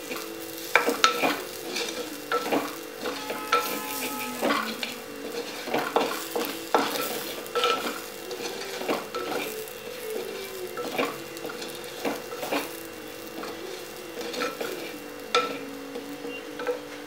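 Prawns frying in a pan with salt and pepper are stirred with repeated scraping clinks of a utensil over a soft, steady sizzle, close by and without speech.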